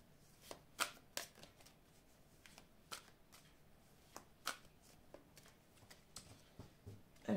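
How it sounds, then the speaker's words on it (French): A deck of oracle cards is shuffled and cut by hand, with close, quiet riffles and sharp card slaps arriving in an irregular rhythm, no voices. "je vais couper le jeu et je vais recouvrir les cartes ici"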